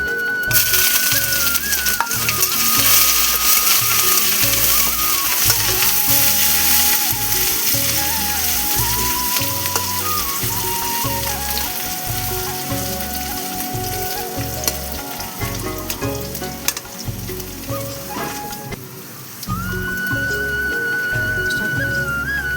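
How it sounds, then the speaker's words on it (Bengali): Ginger sizzles loudly in hot oil in a pan with bay leaves, a continuous frying hiss broken by repeated scraping and stirring strokes, with no talk. "আদাটা একটু ভাজা ভাজা হয়ে গেল"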